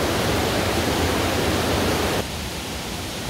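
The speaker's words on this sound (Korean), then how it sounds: "폭포 소리하고 또 계곡의 물소리하고" Loud, steady rush of Biryong Falls and its valley stream in Seoraksan, South Korea, dense and continuous, dropping slightly in level partway through.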